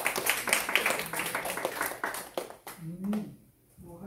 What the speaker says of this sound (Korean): 박수 드세요.